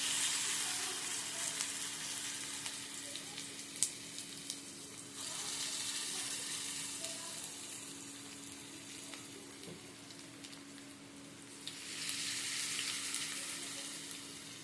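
Ingredients drop into hot oil and fry with a loud, continuous crackling sizzle that swells and eases in waves, with a faint steady hum underneath.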